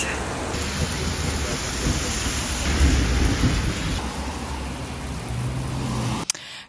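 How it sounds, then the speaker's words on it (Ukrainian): Steady heavy rain falls at a mountain resort while deep thunder rumbles underneath, a loud continuous wash of noise with a swelling roll in the middle. "Ми попали під дощ."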